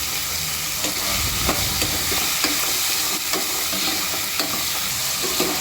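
Chickpeas (chole) and green peas frying in oil with mint, ginger paste, turmeric and salt, giving a steady close sizzle broken by regular scraping stirs of a spoon, with no voices.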